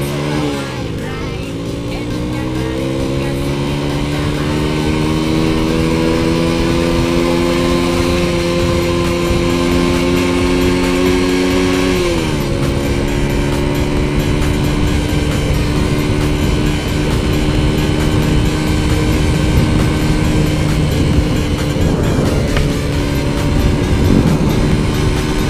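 Honda motorcycle engine, a Honda Astrea Grand or Honda Beat, accelerating in first gear; a loud, close engine tone climbs steadily, drops at a shift, then keeps droning strongly.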